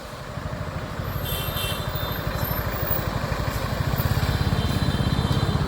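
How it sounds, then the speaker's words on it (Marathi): A nearby engine, like a motorcycle, chugs with a fast, even pulse that grows a little louder amid road traffic in Indapur, with faint higher tones from other vehicles behind it. "अजून कमीच ट्रॅफिक आहे, पुढं आहे अजून भरपूर"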